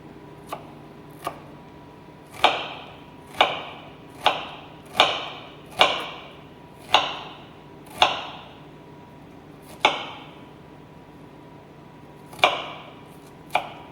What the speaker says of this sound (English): I'm gonna do a brunoise, which is kind of like a small mince, just because I kind of hate getting large chunks of onion